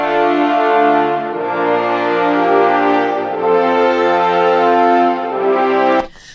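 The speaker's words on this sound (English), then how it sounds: "if we take a look at just this brass set of chords here, I'm going to solo it out for you." Soloed MIDI brass chords playing back in a sequencer, smooth sustained held chords changing a few times, loud and alone, ending abruptly.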